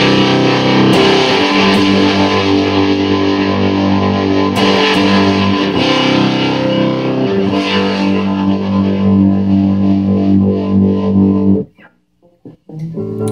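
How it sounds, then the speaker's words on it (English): Loud, gritty fuzz-drenched guitar chords through an EarthQuaker Devices Eruptor fuzz pedal with a volume mod sustain for a long stretch, then stop abruptly, leaving a few small clicks. "a lot of really heavy fuzz. It sounds amazing."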